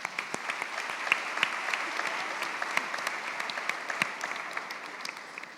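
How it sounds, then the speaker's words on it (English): A crowd at a closing plenary session applauds, with full, sustained clapping and sharper individual claps popping out near the front across the whole span. "A round of applause."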